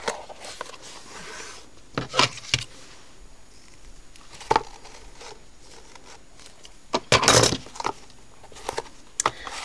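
Crisp snips of scissors cutting ribbon for a gift set, a few short sharp cuts scattered among quiet handling and rustling nearby.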